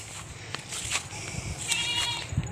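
Anglo-Nubian and Angora goats bleat in a large pasture, a few moderately close calls rising over a noisy outdoor background.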